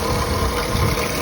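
A Nissan X-Trail under two years old, stopped with its hood open, gives off a loud, abnormal, steady mechanical roar from the engine bay, a dense unbroken din with no pauses and no talk.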